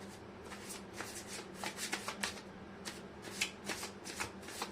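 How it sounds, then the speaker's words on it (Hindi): Tarot cards shuffled by hand, a run of quick riffling and flicking bursts in uneven rhythm, close and fairly quiet with no talking. "मैं कर लेती हूँ कार्ड की शफलिंग।"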